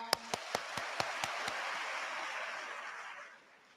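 Audience applause at an induction ceremony for newly qualified medical and dental practitioners, opening with a few sharp distinct claps that swell into a soft, fairly distant crowd patter, then fade out.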